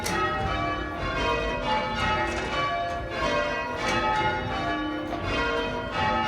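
Tower bells of St Mary the Virgin, Rotherhithe, rung on a practice night, with the tenor among them: a continuous, loud wash of overlapping tolls whose strikes pulse in steady, rolling rounds, with no talk over them.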